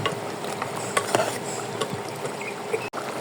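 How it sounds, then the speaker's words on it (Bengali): A spoon stirs khichuri in a pot after ground cumin is added, giving a few brief scrapes and light clicks against the pot, fairly close. "দিয়ে দেবো আমি জিরার গুঁড়া, দিয়ে একটু ভালো মতো নেড়ে দেবো"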